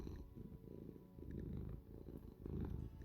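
A cat in the RimWorld video game purrs in a low, steady, rumbling rhythm, soft and close, with no other sounds.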